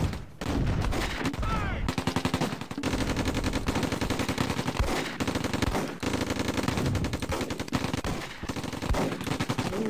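Rapid, dense gunfire from a World War II tactical battle in Close Combat, a near-continuous clatter of bursts and shots filling the whole stretch with brief pauses.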